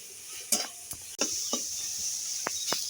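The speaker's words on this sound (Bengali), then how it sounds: "মশলাটা একটু ভালো করে কষিয়ে নেবো।" Turmeric, chilli and cumin masala sautéing in a pan for a Bombay duck chop, a continuous hiss of frying broken by a few crisp spatula scrapes and knocks.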